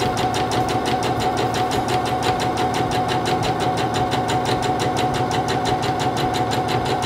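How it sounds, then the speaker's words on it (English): A SINGER Confidence 7640 sewing machine runs a seam with a steady, rapid mechanical chatter of needle strokes, close and continuous throughout, with no talking. "Now I'm going to continue sewing down my seam."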